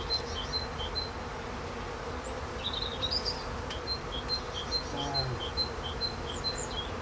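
Honey bees in a hive opened in March for frame inspection, a soft continuous buzz close by with scattered higher chirps and a faint bird call over it.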